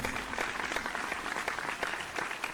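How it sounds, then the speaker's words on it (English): A studio audience at a vocal competition show gives a brief, steady round of applause for the contestants who reached the top 12, dense clapping without voices. "give a big round of applause to our contestants that have made it through to the top 12"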